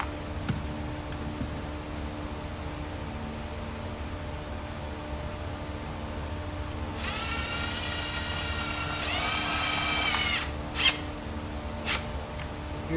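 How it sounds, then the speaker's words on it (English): Power drill driving screws into a golf cart panel during a CarPlay install: two short, close whirring bursts of the motor with a brief pause between, over steady background hiss. "If you're using a drill for that"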